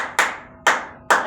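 Congregation in a church clapping hands together, three sharp, loud claps spaced about half a second apart in a steady rhythm, with no voices.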